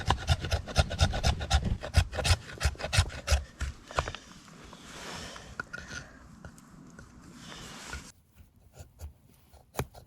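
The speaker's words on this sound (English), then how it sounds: "Do you want to scrape the fat wood?" Fatwood scraped by hand for a winter-solstice campfire while wild camping: a fast run of loud, rhythmic rasping strokes, then slower, softer scraping that thins out toward the end.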